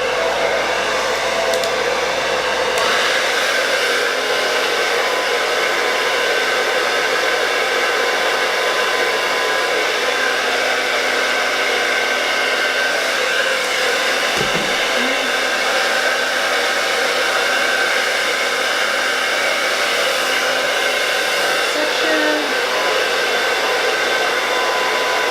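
A hair dryer blows steadily while drying hair for flat-iron styling, a loud continuous whoosh that runs the whole length with only a brief dip near the start.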